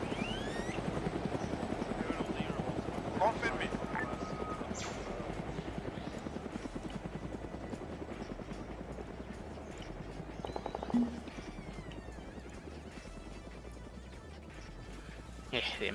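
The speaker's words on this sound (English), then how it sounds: "I wasn't expecting a helicopter to land on our ambush site" A military helicopter lands in an Arma 3 ambush scene, its rotor beating in a constant loud rhythmic chop throughout, with voices talking over it and occasional louder bumps.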